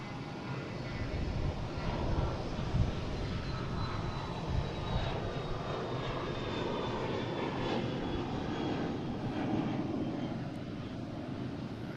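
British Airways jet at Boston Logan airport, its engines giving a continuous loud roar with a deep low rumble and a faint high whine gliding downward, steady throughout with no talking.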